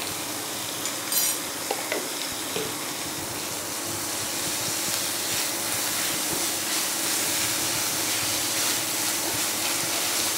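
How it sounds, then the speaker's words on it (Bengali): Ginger garlic paste frying in a pan, a steady broad sizzle and hiss running continuously, with a few faint clinks of stirring early on. "একটু ভেজে নেবো।"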